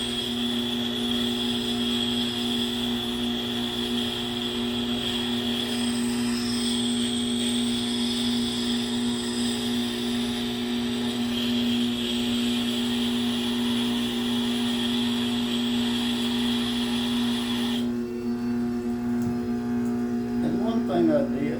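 A Grizzly wet sharpener runs steadily at 90 RPM, giving a constant tonal motor hum and whir that stays even throughout, with a brief change in the background near the end.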